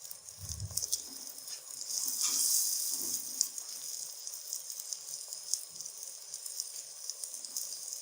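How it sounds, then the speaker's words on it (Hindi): Mash lentils frying in a pan with garlic, ginger and tomato, a steady bright sizzle with soft crackles and a brief stir near the start. "2 से 3 मिनट तक इसे फ्राई करते हैं"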